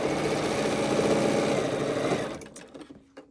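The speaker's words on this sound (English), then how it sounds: "Start sewing and make sure it fits." A sewing machine stitches quilt block pieces in a steady, close whirring run for about two seconds, then slows and stops, leaving a few faint handling clicks.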